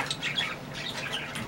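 Pet birds squawking with short bursts of wing flapping, faint and close by, several sharp calls scattered over a steady background.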